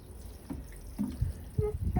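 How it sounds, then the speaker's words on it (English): Water poured over a freshly planted bed of ranunculus claws in a garden, making soft intermittent splashes and drips on the soil, close by and fairly quiet. "We're going to just water this one today."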